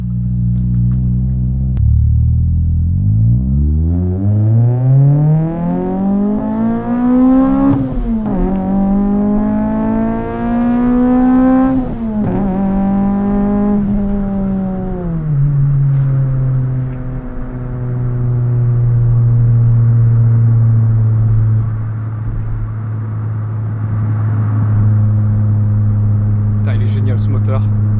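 A Toyota Celica AE92 with a swapped 2ZZ-GE engine revs up hard through a long climbing pull, briefly drops and rises again, then settles into a steady idle drone, loud and close.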